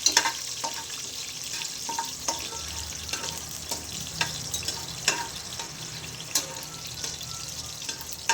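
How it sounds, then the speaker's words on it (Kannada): Cinnamon and cloves frying in oil in a pan, a steady soft sizzle with faint crackles and occasional stirring clicks, fairly quiet and without any speech. "ಸ್ವಲ್ಪ ಅದು ಸ್ವಲ್ಪ ಫ್ರೈ ಮಾಡ್ಕೋಬೇಕು. ಫ್ರೈ ಮಾಡಿದಷ್ಟು ಅದು ಫ್ಲೇವರ್ ಎಲ್ಲ ಆಯಿಲ್ ಹೋಗುತ್ತೆ."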